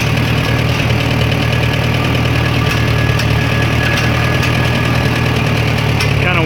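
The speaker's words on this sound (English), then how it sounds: "just kind of turning the tractor around here so we can get it back towards the front of the house" A tractor engine idles steadily and close by as the machine is turned around near a house, a continuous low throbbing with slight knocking, unbroken across the whole stretch.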